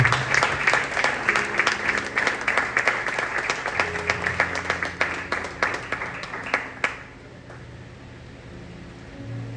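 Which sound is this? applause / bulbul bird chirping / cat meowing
applause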